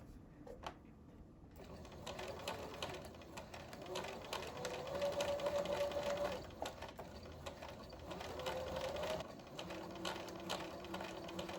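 Sewing machine stitching quilt pieces for a pinwheel block, a steady rapid mechanical whirr and clatter running close and continuous after a brief pause at the start.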